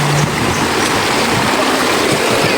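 A river stream in a hot tropical setting rushes loud and near, a dense, steady flow of water with no break and no one talking over it.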